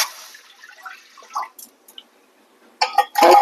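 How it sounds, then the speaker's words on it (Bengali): Water goes into a kadai in short splashy bursts near the end, after a few faint drips and quieter moments. "কড়াইতে জল দেবো"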